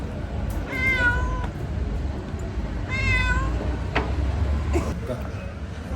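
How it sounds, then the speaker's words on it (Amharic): A cat meows three times, two clear drawn-out calls and a shorter third, close by, with low background murmur and voices around it. "እቺን ድመት"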